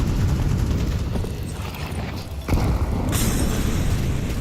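Grenade explosion in a Counter-Strike 2 match booms as a single heavy blast, loud and close, over a constant noisy game background, with a bright metallic rattle after it.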